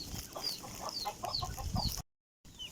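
A fighting rooster clucking in short repeated bursts, close by, with a steady rhythm and a brief silent gap before one more cluck.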